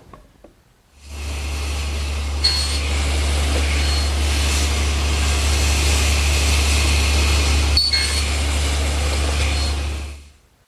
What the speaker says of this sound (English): I'll make the next shoulder cut, which is at the top and bottom edge of each board.